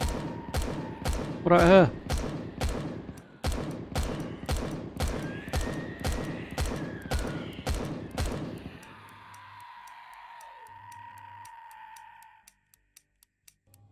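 A turret fires a fast, steady burst of shots in the video game Empyrion for about eight seconds, then stops and leaves a low hum with tonal electronic tones. A voice speaks briefly over the shooting.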